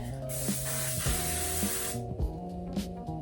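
A single quick burst of aerosol spray hisses for about two seconds close by, over soft background music.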